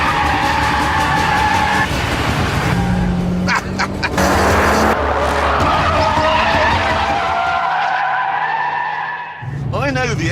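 A Mitsubishi Lancer Evolution X FQ360 corners hard with all four wheels spinning, its engine roaring loud and steady while tyres squeal and skid throughout, with a brief shift near the end.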